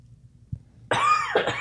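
A person coughs on a podcast recording: a small throat sound, then two loud, close, harsh coughs in quick succession, with no talking.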